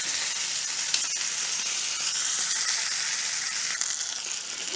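Chicken breast fries in a skillet with a steady, close, bright sizzle and hiss that holds level throughout, with a few small pops.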